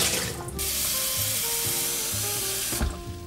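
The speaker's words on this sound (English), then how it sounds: "And finally, I will change the water to make sure that it's fresh water." Tap water runs into a cat's water bowl, a steady hissing splash that starts abruptly, fills for a few seconds with a rising tone, then cuts off.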